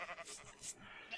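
Sheep bleating in the Minecraft video game, a few short bright calls in quick succession, close and clear with no talk over them.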